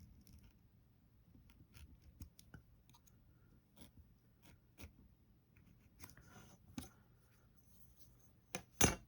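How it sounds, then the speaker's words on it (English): Miniature pieces for a tiny apartment afternoon-tea scene are cut in half: a few faint, sparse clicks and snips, close and quiet, over a soft steady background hum. "We need to cut these two in half."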